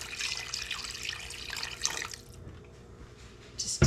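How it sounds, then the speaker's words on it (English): Water trickles and splashes into a roast pan holding a tender deer roast, a soft running pour that tapers off and then goes quiet, with a small clink at the end. "I think I'm going to add just a small amount of water to this,"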